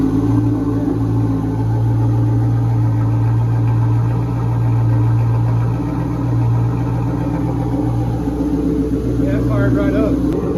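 A 1996 Corvette with an LT4 V8 runs at a steady, loud idle, its deep low rumble continuous throughout and close by, after having just started; people talk quietly underneath.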